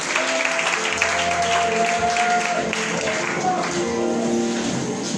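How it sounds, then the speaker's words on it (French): A church congregation applauds and cheers for Jesus with sustained, dense clapping mixed with voices and crowd noise, steady and fairly loud for the whole stretch. "Acclamons Jésus à ce moment royalement."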